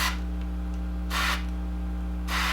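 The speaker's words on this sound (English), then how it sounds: "you take your deoxit D5 like that, and all you're going to do is spray the littlest bit" DeoxIT D5 contact cleaner is sprayed into the control slots of a Music & Sound MC602 intercom in short hissing bursts, about three of them, close and clear over a steady electrical hum.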